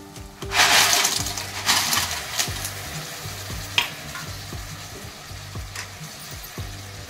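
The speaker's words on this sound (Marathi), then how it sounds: "आता आपण यामध्ये शिवल्या टाकणार आहोत।" Clams go into a pan of sautéed masala, and a bright sizzle bursts out, then settles into frying hiss with repeated scraping stirs and a few sharp clinks.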